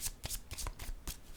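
Tarot cards are riffled and shuffled by hand in quick bursts, about half a dozen crisp papery flutters in close succession, near and quiet with no talk.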